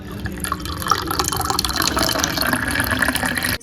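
Water poured into a pot for making green tea, a continuous splashing, trickling fill with small drips and clinks that ends abruptly, no talking.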